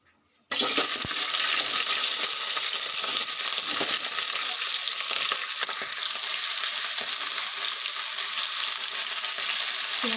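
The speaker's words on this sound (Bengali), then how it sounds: "আলুটা একটু ভালো করে কষে নেব" Potatoes and spring onion stir-fry in a hot pan, a loud, continuous sizzle starting abruptly after a brief silence and holding steady, with occasional clinks of a spatula against the pan.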